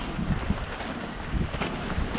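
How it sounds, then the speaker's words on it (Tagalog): Strong early-morning wind at a lakeside campsite on Mapanuepe Lake, Zambales, during a bike tour from Manila, buffets the microphone in a dense, constant roar with irregular gusty thumps, and no talking. "Lakas ng hangin."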